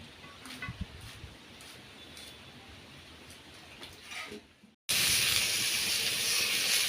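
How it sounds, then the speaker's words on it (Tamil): Soft bubbling and hissing of water boiling in a pot, with faint clinks, then a sudden louder burst of steamy hiss near the end. "தண்ணி வந்து நல்லா கொதிச்சுட்டு"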